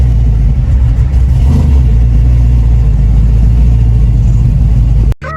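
2008 Chevrolet Tahoe truck engine while cruising on the highway, a loud, steady low rumble with road noise that carries on evenly before cutting off abruptly near the end.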